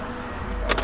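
A Nissan 350Z/G35 engine cranks and catches near the end, after a quiet stretch of shop ambience, with a loud broadband burst of starter and engine noise close by.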